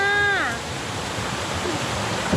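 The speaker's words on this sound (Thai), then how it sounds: "นี่ค่ะน้ำตกค่ะ" Waterfall on the Wang Sai Thong rafting route in Satun, Thailand, with a strong current: a steady, full rush of falling water throughout, with a brief voice at the start.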